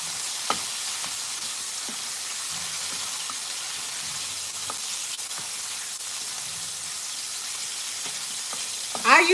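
Butter and garlic sizzle in a pan alongside pancetta, a steady hiss of frying with a few brief clicks and stirring clatters, ending with a short louder scrape near the end.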